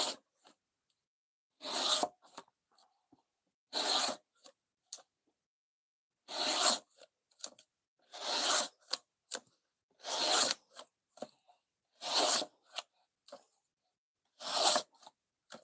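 A knife blade is drawn repeatedly across a sharpening stone in steady, evenly spaced rasping strokes, each a short burst of gritty scraping separated by brief pauses, close and clear with no talking.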